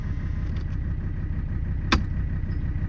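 A 1985 Mercedes 300D diesel engine keeps running after an attempt to shut it off, a steady close low rumbling idle with a single brief sharp click midway.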